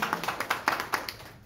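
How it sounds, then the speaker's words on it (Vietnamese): A short burst of applause from an audience in a customer seminar hall, scattered hand claps at fairly low level, fading toward the end. "chúng ta cùng dành cho nhau một tràng pháo tay thật lớn"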